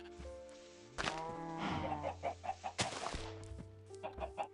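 Chickens clucking in the Minecraft video game, several short squawks and clucks in quick bursts, close and fairly loud over a steady game background, with no talk.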